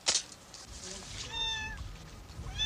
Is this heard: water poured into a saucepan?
no